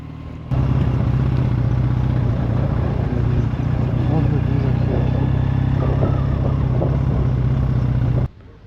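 A motorcycle that sometimes leaks oil drones loudly and steadily while riding on a road heading toward Newhaven, the engine cutting in abruptly and holding an even, close roar before stopping sharply, with a voice faintly beneath it.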